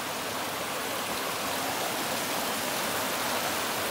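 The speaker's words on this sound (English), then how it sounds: "the sound of a waterfall flowing over the smooth rocks as it cascades on its way down" A waterfall rushes steadily over smooth rocks at Arch Rock, a dense, even roar of splashing water close by, with no voices.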